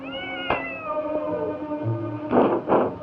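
A cat yowls in a long, wavering, drawn-out cry, followed by two louder, harsh bursts near the end, close and clear, as a radio drama sound effect.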